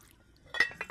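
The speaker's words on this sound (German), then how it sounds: "Also nimmt sie schließlich einen großen Topf und füllt ihn mit Wasser." A large pot handled in a radio-drama kitchen scene gives a few close metallic clanks and knocks after a quiet start, with a hint of water.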